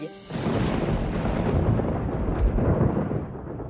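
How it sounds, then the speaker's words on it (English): A heavy thunderstorm rumbles continuously on a stormy wedding night, loud broadband thunder rolling without a break for several seconds, with no voices. "On the night of the wedding, there is an ominous storm."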